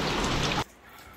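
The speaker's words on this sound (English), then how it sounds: "It's just rain every day." Steady, loud rain pours down on a Leopard 45 sailing catamaran, a dense hiss for about half a second before it drops abruptly to a quiet background.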